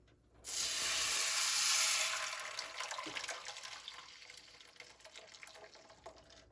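Salsa poured into hot oil in a frying pan bursts into a loud, steady hiss that peaks in the first couple of seconds, then eases into a softer crackling sizzle with scattered pops.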